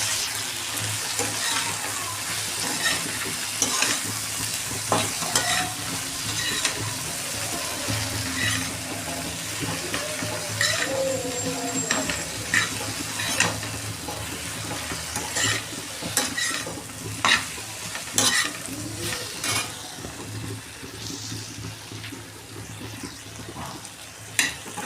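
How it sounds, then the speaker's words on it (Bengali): Okra with turmeric and salt frying in a pan gives a steady soft sizzle, broken by scraping and clattering as it is stirred, with a faint voice now and then. "এটা 10 মিনিট জাস্ট একটু নাড়াচাড়া করে ঢাকা দিয়ে ভেজে নেব।"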